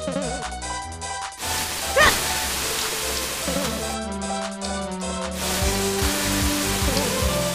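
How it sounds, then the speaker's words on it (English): Rain falls steadily in the video game ZC: Path of Shadows, a soft hiss under game music and sound effects, with a few sharp chimes and tones over it. "Oh no, it's raining."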